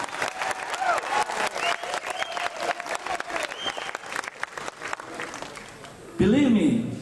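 A seated audience applauding at a talk, a dense steady patter of many hands with a voice speaking over it, then a louder burst of crowd noise near the end.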